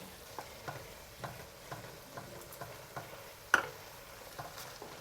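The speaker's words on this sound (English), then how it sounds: "Mix it up to the consistency that you like." Stir-fry sauce thickened with cornstarch solution is stirred in a wok with quiet, regular scraping taps about every half second and one louder knock, over a low sizzle.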